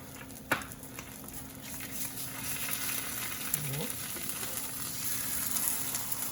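Eggs frying in a pan for breakfast: a steady, faint sizzle throughout, with a sharp clink near the start and light scraping from turning them.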